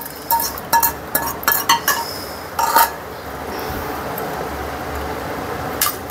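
Sabudana fruit kheer being served into a bowl: a quick series of sharp clinks and clatters of a metal utensil against dishes, close and distinct in the first three seconds, then a steady low room hum with one last clink.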